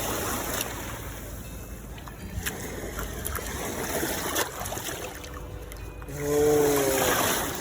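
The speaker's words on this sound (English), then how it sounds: "Let's give it a bit of a rinse." A muddy find from the riverbank is rinsed in river water, with soft splashing and sloshing over a low outdoor wash of current and waves, fairly faint and without talking.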